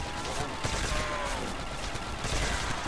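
Rapid gunfire bursts from Call of Duty Zombies on the Nacht map, a dense clatter of repeated shots running steadily through the clip amid game noise.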